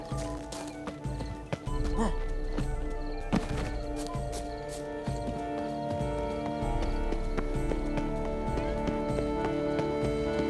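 Horse hooves clip-clopping steadily at a gallop across ground in the video game Witcher 3, a continuous rhythmic drumming under game music and occasional character voices talking.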